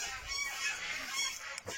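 Geese honking in a garden in May, a loud close chorus of overlapping honks and calls that carries on without pause, with no talking.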